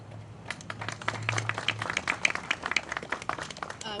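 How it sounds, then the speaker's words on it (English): A crowd at a police press conference applauds with dense, steady clapping lasting several seconds, moderately loud and sustained. "a round of applause, a thank you to our executive level of government"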